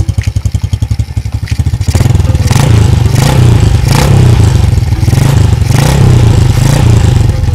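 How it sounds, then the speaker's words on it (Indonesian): A motorcycle exhaust with a deep, bassy note puts out low, rhythmic idle pulses close up, then the engine revs and holds a loud, rumbling roar. "kita dengarkan suara dari si knalpotnya sendiri. Ini suaranya nggak ngebring, tapi suaranya agak ngebas ya"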